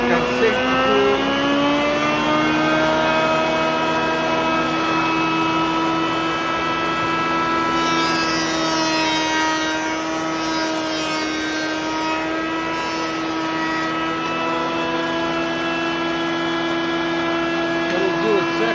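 Wood jointer planing laminated exotic wood, a steady machine drone with whining harmonics that holds for the whole stretch, loud and close, with no speech over it.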